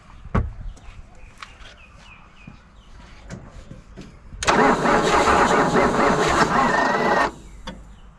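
A Valiant's 225 slant six engine cranks on its starter motor, with a couple of sharp clunks and brief turnover bursts first, then a loud sustained stretch of grinding cranking lasting a few seconds before cutting off abruptly.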